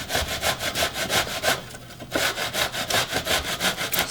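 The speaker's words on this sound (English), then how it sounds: "We're gonna grate it on this side because we want like some" Beets are rubbed against the coarse side of a metal box grater in fast, even back-and-forth strokes, a rasping scrape repeated about three times per second and heard close up with one brief pause.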